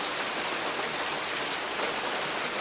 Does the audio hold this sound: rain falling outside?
yes